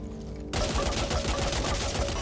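An AK machine gun fires in the video game Back 4 Blood, a dense, loud, continuous burst of rapid shots starting abruptly after a brief quieter moment and sustaining to the end.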